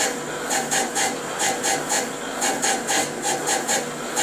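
Manual surface grinder wheel plunging down into a workpiece under coolant, giving a steady close rasping grind that pulses in regular strokes roughly twice a second, with no talk.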